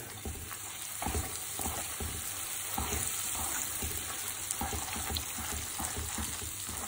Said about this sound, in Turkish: 4 yemek kaşığı tereyağı ekliyorum. Ve ekler eklemez bunu karıştırıyorum.